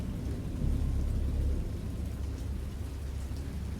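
Thunderstorm in a visual novel: a low, steady rumble of rain and distant thunder swells slightly around the first second and a half, then continues evenly, with no voices.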